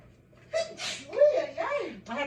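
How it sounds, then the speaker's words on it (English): A single sneeze from a cook stepping away from the food, a sharp breathy burst followed by a voiced, drawn-out exhale, close and moderately loud in a quiet room. "I have to come over here to sneeze,"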